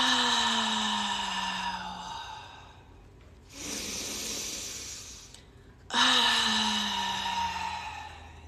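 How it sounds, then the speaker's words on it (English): Two slow, deep breathing cycles during a guided morning mindfulness routine, each an audible inhale followed by a long, airy open-mouth exhale, close and clear with quiet pauses between. "take a deep inhale. Let's open mouth exhale. 2 more times on your own."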